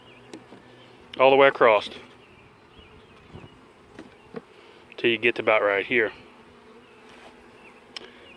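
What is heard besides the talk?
bees buzzing in a beehive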